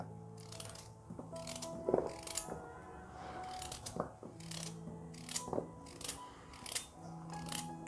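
A knife slices carrots into even round pieces on a cutting board for carrot halwa, making a series of sharp, regular chopping taps close by over a faint tonal background.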